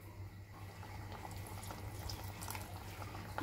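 Water poured gently into a simmering fish curry gravy gives a faint continuous trickle and splash over a low hum, with no talking.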